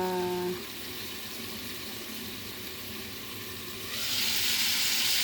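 Shrimp frying in a pan give a steady sizzle close by. A brief tone fades at the start, and the hiss swells louder and brighter near the end.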